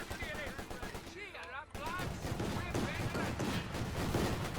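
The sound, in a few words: gunfire in Company of Heroes 2 video game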